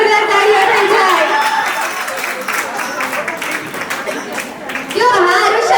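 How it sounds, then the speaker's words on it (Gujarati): Loud applause from guests at a baby shower, a dense wash of clapping that runs steadily for several seconds, dips slightly in the middle and swells again at the end, with voices mixed into the crowd. "એકવાર જોરદાર તાળીઓ થઈ જાય"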